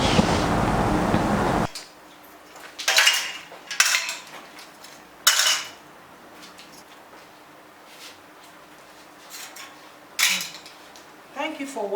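Cake batter for Queen's cake being scraped into a baking pan with a utensil, several short separate scraping and clinking bursts in a quiet room, after a brief opening stretch of loud sound.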